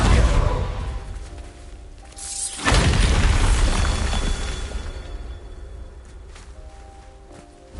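A Bombarda spell blast in Hogwarts Legacy: a heavy booming burst with debris scatter near the middle, following a quieter rumbling stretch and trailing into a long fading crumble.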